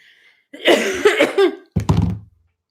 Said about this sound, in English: I've been coughing a little bit today, quite a bit actually today.